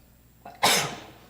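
A single abrupt sneeze indoors during a zoning commission meeting, with a short intake leading into one loud, breathy burst that trails off, close and alone without talk.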